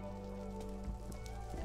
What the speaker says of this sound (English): We need the rain gone.